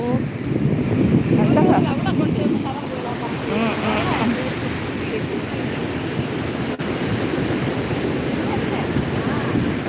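Sea surf rolls and crashes on Vettukad beach in a steady broadband roar, with wind buffeting the microphone throughout; a louder surge of breaking water comes early and then settles into a continuous wash.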